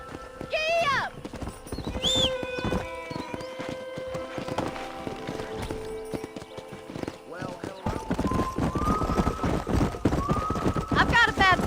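A horse gallops in Red Dead Redemption with rapid hoof clip-clops and several loud whinnies, close and steady, as game sounds and voices play over it.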